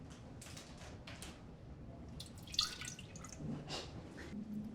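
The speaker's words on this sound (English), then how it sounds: "I'm gonna pour mine back into the pitcher." Homemade oat milk, flavoured with cinnamon and maple, is poured back into a pitcher, a quiet liquid trickle and splash running steadily with a brief brighter spatter midway, fairly soft and close.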